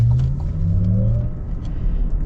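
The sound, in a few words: 2024 Cadillac Lyriq Celestial electric car accelerating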